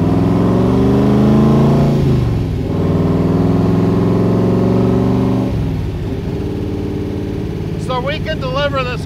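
A polished aluminum 1965 Shelby Cobra replica with a big block V8 runs loud and close, its steady rumble rising and dropping in pitch as the engine is revved, with a brief chirp near the end.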